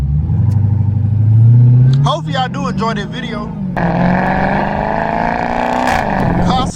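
A straight-piped Dodge Hellcat roars loudly as it accelerates, its exhaust note rising through the gears before a brief drop-off, then droning on steadily while someone talks over it.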